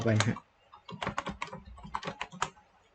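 A password being entered on a computer keyboard: a short burst of clicks, a brief pause, then a steady run of quiet, close key taps, with a voice speaking over the start.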